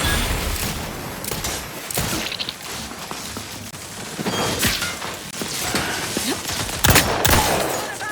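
Gunfire in the video game Outer Worlds 2: sharp shots come singly and in short bursts across a noisy battle mix, with some louder cracks near the end and no speech.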